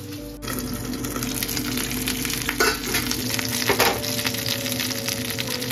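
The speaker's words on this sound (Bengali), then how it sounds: "মেয়ের জন্য ভাবছি এই সুইট পটেটোটা একটু কেটে ফ্রাই করবো" Sliced sweet potato and carrots sizzle steadily in hot oil in a home kitchen, a constant loud frying hiss with occasional stirring scrapes and no talking.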